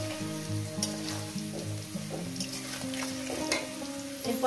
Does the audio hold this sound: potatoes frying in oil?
yes